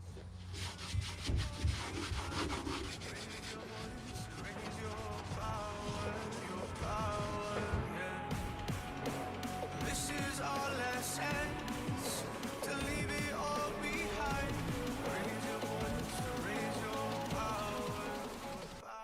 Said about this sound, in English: We have finished to sandpaper the remaining yellow paint.